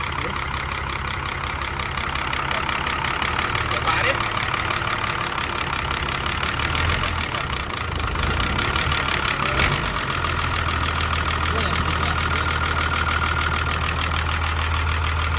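A ten-wheel truck's diesel engine idles steadily and fairly loud, a continuous low rumble with some knocking texture that runs unbroken from start to finish, with no voices over it.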